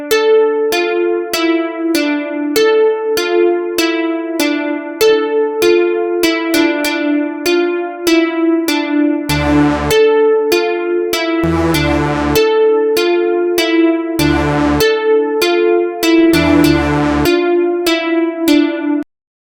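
Synth beat intro for a rap track: a plucky repeating synth melody with sharp rhythmic clicks, joined by deeper swelling chord stabs partway through, steady and upfront with no voices.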